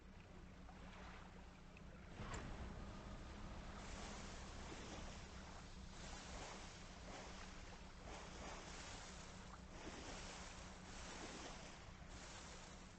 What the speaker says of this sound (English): Oh, I love that my boat is making those noises.